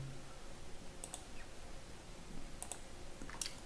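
A few sharp computer mouse clicks sound while someone draws in CAD software. They come singly and in a quick pair over a quiet room background.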